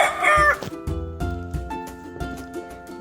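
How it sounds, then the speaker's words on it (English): A rooster crows loudly and close, a single drawn-out cock-a-doodle-doo that opens strong and trails into lower clucking tones. "cock,"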